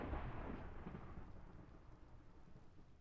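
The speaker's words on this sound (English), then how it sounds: "We are going to sit in this box until the thunderstorm is over." Thunderstorm in a modded Minecraft world: a loud, deep rolling rumble of thunder over steady broadband rain hiss, strongest at the start and slowly fading, with no talking.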